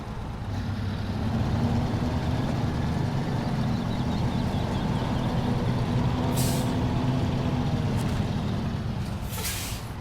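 A heavy truck reverses in the SnowRunner driving game, its engine a steady low drone throughout, with two sharp air brake hisses near the end.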